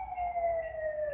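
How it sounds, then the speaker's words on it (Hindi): A siren holds a steady wailing tone that slowly drifts lower, heard at moderate level and some distance away. "बालकांड के समापन पर सायरन की आवाज़ आप भी सुन रहे होंगे।"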